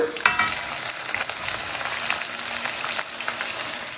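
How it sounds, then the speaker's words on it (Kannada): Mustard seeds, cumin and chopped onion crackle in hot oil in a pan: a loud, steady sizzle that runs throughout, with a few sharper pops near the start. "ಒಂದು ಅರ್ಧ ಟೀ ಸ್ಪೂನ್ ಅಷ್ಟು ಸಾಸಿವೆ, ಅರ್ಧ ಟೀ ಸ್ಪೂನ್ ಅಷ್ಟು ಜೀರಿಗೆ, ಕಟ್ ಮಾಡಿರೋ ಈರುಳ್ಳಿ ಹಾಕೊಳ್ಳೋಣ"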